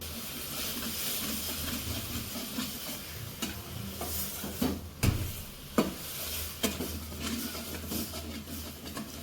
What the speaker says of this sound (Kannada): ಅದಕ್ಕೆ ನಾನು ಬೆಲ್ಲ ಆ್ಯಡ್ ಮಾಡ್ಕೊತಿದ್ದೀನಿ ಇದು ಚೆನ್ನಾಗಿ ಕುದಿಬೇಕು